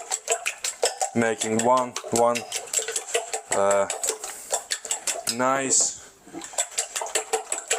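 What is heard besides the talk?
whisking eggs with a fork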